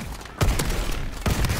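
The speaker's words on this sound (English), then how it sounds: "It's a pump action shotgun." A pump-action shotgun fired in the video game Call of Duty: Advanced Warfare, two loud booming blasts about a second apart over constant game noise.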